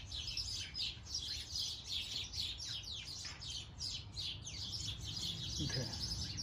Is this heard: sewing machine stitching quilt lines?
no